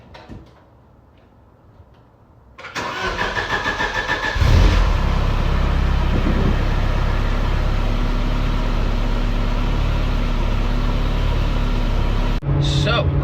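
A $500K Mercedes race car engine cranks and fires up, then settles into a loud, rough, continuous idle roar close by after a few quiet seconds at the start.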